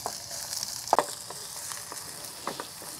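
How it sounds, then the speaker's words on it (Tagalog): Garlic and then onion sautéing in hot cooking oil in a pan over a camp stove, a steady soft sizzle with a few brief clatters and stirring taps, no talking. "Mainit na po yung ating mantika sa kawali. Ilagay na po natin si bawang. Sunod natin si sibuyas."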